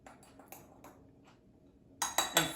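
Dry cookie ingredients with baking soda being mixed in a bowl for oatmeal raisin cookies, a few faint utensil taps at first, then loud repeated clinking scrapes of a spoon against the bowl, close and without talk.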